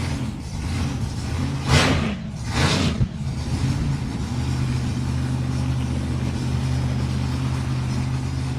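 Supercharged dragster engine at a drag racing event, a loud idling rumble broken by two sharp revving blasts early on, then settling back into a steady low drone.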